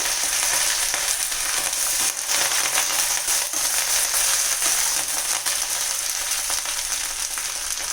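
Ingredients for wheat rava upma fry in a hot pan, with green chillies going in, a dense continuous sizzle and crackle, fairly loud and close with occasional stirring clicks and no talking.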